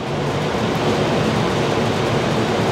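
RV overhead roof fan running on its low setting, a steady, loud broadband whoosh with a low hum beneath it, continuous and unchanging throughout with no talk.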